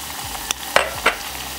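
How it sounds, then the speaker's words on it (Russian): Onions fry with meat in a kazan for Uzbek plov, a steady close sizzle broken by three sharp scraping stirs of a spatula against the pot. "теперь в казан отправляем лучок и обжариваем до золотистого цвета"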